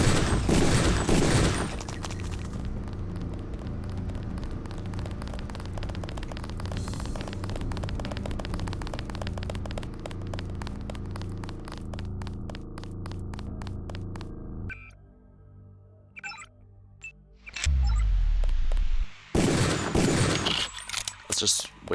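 Rapid gunfire in the Deus Ex video game rattles off in a fast repeating burst for over ten seconds amid game hum, then stops before louder bursts of game noise near the end.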